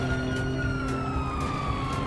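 A police car siren wails steadily in GTA, loud and continuous with a rising and falling tone that fills the whole moment and has no talk over it.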